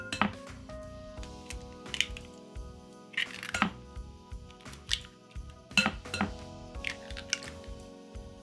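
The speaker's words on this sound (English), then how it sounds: "Crack 3 eggs." Three eggs cracked into a bowl on a kitchen counter give brief, sharp taps and clinks of shell on the rim, spaced apart, with soft drips and light utensil sounds between them in a quiet room.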